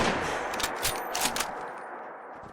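Rifle fire in Fallout 4, a quick series of sharp cracks and bangs over a dense roar of game noise, loud and close with no talking.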